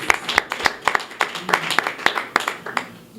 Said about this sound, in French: Nous allons applaudir pour lui.